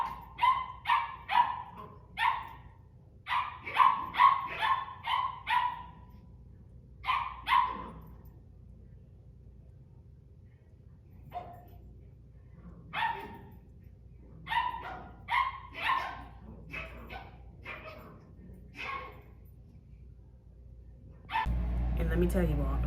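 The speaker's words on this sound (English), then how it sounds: "high-pitched barking dogs." Several high-pitched dogs bark in rapid yapping bursts, pausing and resuming, fairly close, with a brief burst of noise at the very end.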